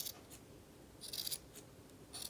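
Scissors trimming the yarn of a knitted hat pom-pom, with a few quick, close snips and soft rustling in short bursts over a steady background hiss.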